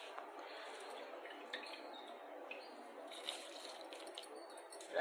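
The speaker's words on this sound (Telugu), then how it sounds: "రైస్ వేస్తున్నా, బాగా కలుపుకోవాలా." Rice tipped into a pot of boiling water for a vegetable pulao, making a steady bubbling, watery rush close by with a few light splashes and no talk.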